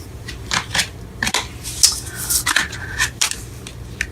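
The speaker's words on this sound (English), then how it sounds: "Oh man, can't shuffle these." Tarot cards being shuffled by hand, a close run of crisp riffling and slapping bursts with sliding card noise, no talk over it.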